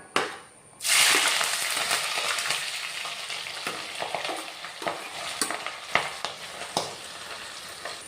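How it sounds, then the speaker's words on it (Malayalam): Sliced garlic, slit green chillies and long-cut ginger sauté in a clay pot for chicken curry, a steady close sizzle that bursts up after a brief quiet start, with scraping stirs and clacks throughout and no talk. "ഇഞ്ചി നീളത്തിൽ അരിഞ്ഞത് ഇത്രയും ചേർത്ത് വഴറ്റിയെടുക്കണം"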